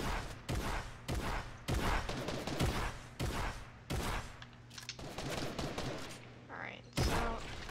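Combat shotgun fire in the Fortnite video game, a rapid series of loud, booming blasts in quick bursts with brief pauses between, close and dominant.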